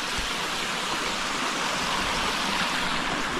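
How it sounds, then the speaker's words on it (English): A waterfall and stream on a New York hiking trail give off a steady, fairly loud rushing wash of flowing water, unbroken and unaccompanied by voices. "I don't think this is it, but that's one waterfall."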